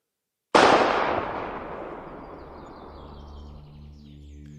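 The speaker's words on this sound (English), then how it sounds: "A gunshot echoed throughout the field on the calm and gentle day." Single gunshot across an open field on a calm day, a sudden sharp crack followed by a long fading echo that rolls on for several seconds, with faint bird chirps afterward.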